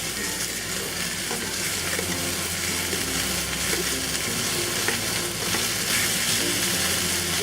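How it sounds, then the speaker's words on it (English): Soybeans stir-fried with winter melon in a hot pan give a loud, continuous sizzle with constant scraping and tossing of ingredients, up close and without speech. "Add the soybeans."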